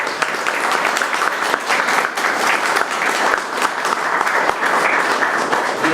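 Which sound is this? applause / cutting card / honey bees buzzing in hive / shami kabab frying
applause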